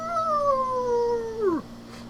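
A person imitates a howl, a single drawn-out wavering wail that slides downward and cuts off, close and alone without other voices.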